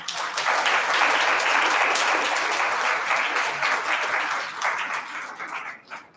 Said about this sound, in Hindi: इसलिए इनके लिए जोरदार तालियां